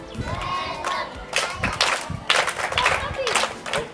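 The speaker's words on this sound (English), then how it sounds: "All clap for them." Schoolchildren at a school in Cameroon clap and cheer in loud, uneven bursts, with shouting voices rising and falling between rounds of applause.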